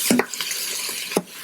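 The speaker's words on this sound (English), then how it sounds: "I have the onions sizzling." Onions and mushrooms frying in a pan for a spring soup, a steady soft sizzle with a few sharp clicks of stirring or utensil contact, close and with no talking.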